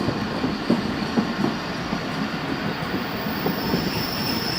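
Shah Latif Express at Jumma Goth station in Pakistan, a steady rumble of rail traffic with scattered metallic clanks and faint wheel squeal, broadband and continuous throughout without speech.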